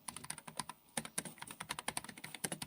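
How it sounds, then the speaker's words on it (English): Rapid, uneven clicking of keys being typed on a keyboard, close and crisp, a steady stream of taps with no voices. "a typing machine on the right"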